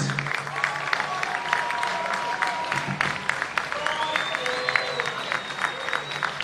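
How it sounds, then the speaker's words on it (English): Applause from a crowd at a men's Premier League grand final, steady clapping filling the whole stretch at moderate distance, with a few cheers and an announcer's voice over a PA faintly woven through it. "they deserve your round of applause"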